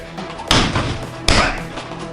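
Two heavy thuds from a martial-arts back kick striking a target, one at a time with a pause between, close and loud over a quiet room.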